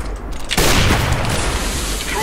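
A grenade going off in CS:GO on Mirage, one sudden loud boom after a brief lull, followed by a long noisy rumble.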